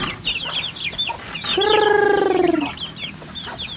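A chicken clucks repeatedly at a small hut in a clove garden, with a louder drawn-out squawk in the middle, close by and alone without talk.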